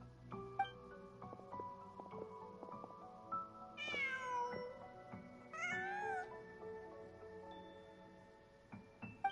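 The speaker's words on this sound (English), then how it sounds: "Just a cat." A cat in the video game Genshin Impact meows several times, with two drawn-out, rising and falling cries standing out clearly over a soft game music background, no talk.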